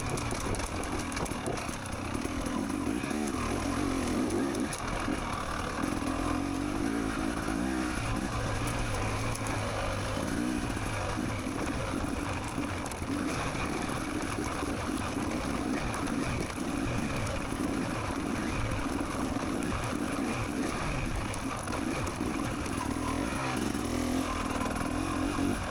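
A dirt bike engine during a harescramble race, a continuous droning roar held fairly steady throughout, close to the rider with no clear talk over it.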